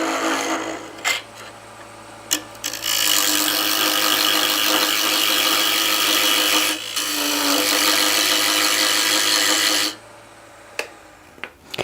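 Wood spinning on a lathe as a tenon is cut for mounting a small turned box, a sustained loud scraping hiss of the tool against the rotating workpiece for several seconds, then stopping with motor hum and clicks.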